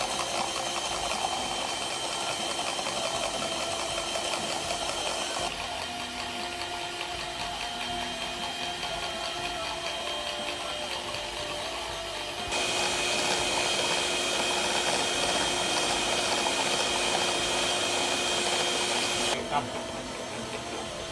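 An electric mixer beats milk for teh talua, a Minang tea drink. It gives a continuous loud whirring drone that shifts in pitch and intensity a few times, as if speeds change, over about twenty seconds.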